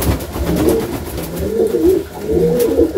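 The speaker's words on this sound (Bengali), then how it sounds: "আমার বাড়ির ধাড়ি পেয়ার এটা" Saharanpuri pigeon, a breeding adult hen kept in a home loft, cooing in repeated soft throaty rolls, close and clear with no talk over it.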